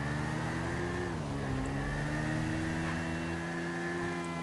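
A car engine in the video game GTA V hums, then revs, its pitch climbing a little partway through, loud and close with no talking.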